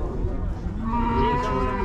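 At a cattle bazaar in Uzynagash, Kazakhstan, a cow lows in a long, steady moo close by, over a dense crowd murmur and low background noise.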